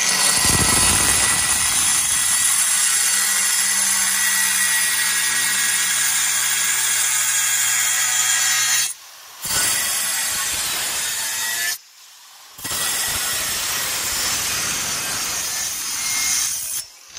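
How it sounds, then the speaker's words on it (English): Angle grinder blade cutting tile, a loud continuous grinding whine with two brief pauses where the cut stops, running alone without talk throughout. "I wanna turn this on and I'm gonna go in the opposite direction that the blade is spinning, and that resistance is gonna give me better control over the angle grinder"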